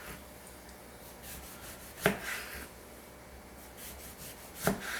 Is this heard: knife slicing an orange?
yes